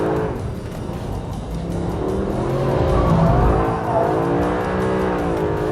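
A Mercedes SLS AMG Black Series with ceramic brakes is driven hard on track, its engine note rising and falling loudly and close while the tyres squeal in sweeping, wavering tones.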